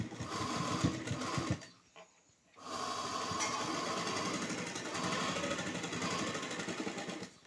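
A sewing machine stitches an embroidered blouse in close, steady runs of rapid needle clatter, stopping briefly for about a second before the motor picks up again and keeps going.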